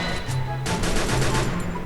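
Rapid video game gunfire, a dense burst of fast repeated shots with a thick rattling texture, loud and continuous for about two seconds, growing heavier partway through.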